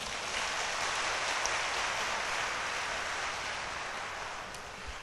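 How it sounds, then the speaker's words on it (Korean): A hall audience at a 2015 Daegu citizens' roundtable meeting applauds in a dense, steady wash of clapping that holds at an even level for the whole stretch and eases only slightly toward the end. "박수 한번 부탁드리겠습니다"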